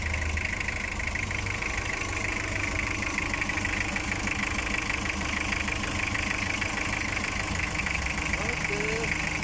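Toyota 2L diesel engine idling steadily after a top overhaul for overheating, a close, continuous rough clatter with an even rhythmic knock throughout.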